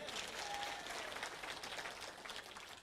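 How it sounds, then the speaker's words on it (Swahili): Delegates at a political meeting in Kenya applaud, a faint, distant-sounding patter of many hands clapping steadily for a few seconds. "Jipigiani makofi"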